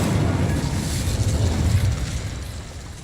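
An Incendio fire spell cast in Hogwarts Legacy gives off a loud, continuous roaring whoosh of flame that stays steady and close for about three seconds.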